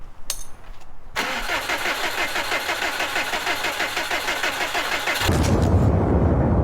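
A 2002-2007 Subaru Impreza cranks with a rapid starter chatter, catches and settles into a steady idle. A clunk follows a moment of quiet at the start, and a louder low rumble comes in near the end.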